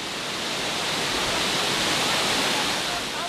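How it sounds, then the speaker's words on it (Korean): A roaring waterfall in Jiuzhaigou, about 200 m wide with drops of around 40 m, gives off a loud, steady, broadband rush of falling water that fills the whole stretch without a break. "구체구에서 물살이 가장 세고 물소리도 가장 큰 구간이죠."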